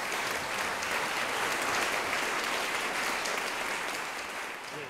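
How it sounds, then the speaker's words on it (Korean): Steady applause from a sizable crowd, dense and continuous, tapering slightly at the end. "여러분 박수 좀 부탁드립니다."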